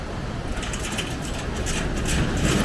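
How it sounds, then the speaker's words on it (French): Ocean waves wash steadily onto a Sydney beach in the evening, a dense continuous roar of surf that swells slightly toward the end, with no voices. "se laisser bercer par le doux bruit des vagues pour clôturer cette journée"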